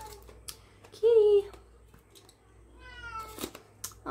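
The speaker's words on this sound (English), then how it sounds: "That's my kitty cat Pepper" A house cat gives one clear, close meow, with a second softer meow a moment later, against a quiet indoor background with faint rustling.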